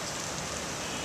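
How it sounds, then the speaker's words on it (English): Heavy rain pouring down steadily as a dense, even hiss with no pauses and no voices. "It's kind of starting to rain really hard"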